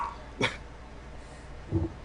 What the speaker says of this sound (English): You can probably hear that yappy little shit of a dog